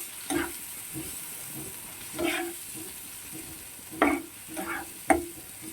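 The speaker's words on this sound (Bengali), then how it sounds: "মশলাগুলোকে আবার আদা রসুন পেঁয়াজের সঙ্গে ভালো করে কষিয়ে নেব" Spices sautéing with ginger, garlic and onion in a pan for pomfret fish, a low steady sizzle punctuated by several spoon scrapes and stirring knocks, the sharpest strokes near the end, no voices.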